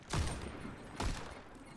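Two sharp sniper rifle shots from Widowmaker in Overwatch 2, about a second apart, each a loud crack trailing into a brief rumbling decay, with no talk over them.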